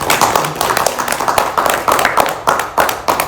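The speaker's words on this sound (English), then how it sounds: "if you want to clap, yes" Audience at a yoga workshop clapping in a loose, uneven rhythm of sharp hand claps, close and moderately loud, with no talking over it.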